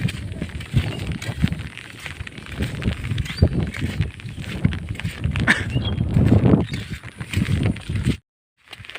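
Heavy rain after days of downpour around a flooded village, a dense, continuous close patter that holds steady before cutting off abruptly near the end.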